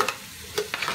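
Bitter gourd (karela) stir-fried in a pan, with a soft steady sizzle broken by a few short scraping stirs of a spatula, close and fairly quiet.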